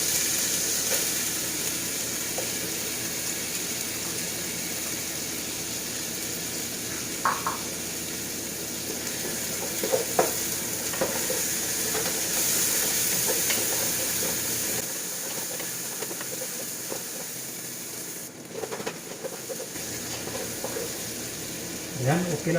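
Garlic and ginger sizzle steadily in a hot pan for Bicol-style laing, a continuous frying hiss with occasional stirring clinks, while a voice talks over it now and then.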